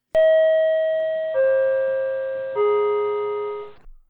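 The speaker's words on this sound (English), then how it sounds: "Subway chime, go." A subway-style chime sound effect plays three descending electronic bell tones. Each rings clear and loud, then sustains and fades before the next one enters, with no talking over it.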